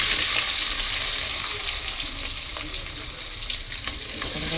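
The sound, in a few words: onions frying in oil in a pan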